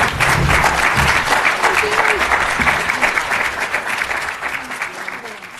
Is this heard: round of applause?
yes